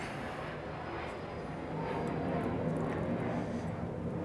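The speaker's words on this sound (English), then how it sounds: "plane going overhead" An airplane flies overhead outdoors, a steady broadband roar that swells a little midway and holds, moderately distant.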